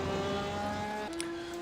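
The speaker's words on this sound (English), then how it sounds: "The third place car is the red Porsche number 26 driven by James Acklam" A red Porsche race car, number 26, drones past in a Le Mans racing video game, its engine a steady tonal whine that shifts pitch midway, loud and continuous.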